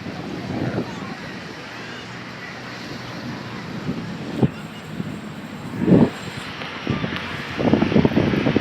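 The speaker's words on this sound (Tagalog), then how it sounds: "Medyo malakas ang hangin mga kaibigan" Steady blustery wind roars across the microphone along the Manila Bay shore, with low rumbling gusts swelling now and then, loud and close throughout.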